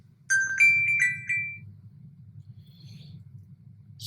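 A mobile phone rings in a quiet room: a short run of bright electronic ringtone notes in the first second and a half, then it falls silent over a low background hum.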